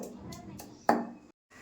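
A few dull pounding knocks of a pestle crushing garlic into paste in a mortar, spaced irregularly, followed by a brief pause and a quieter sound at the end.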